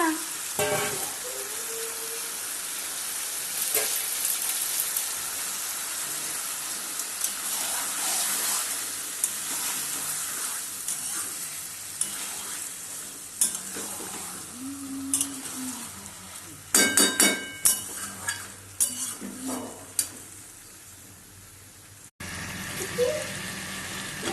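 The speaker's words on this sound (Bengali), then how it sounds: "হ্যাঁ বাবা চিকেন হ্যাঁ রান্না করছি তোমার জন্য" Chicken frying in a pan at home, a steady close sizzle running throughout, with stirring clatters and scrapes bunching up toward the end.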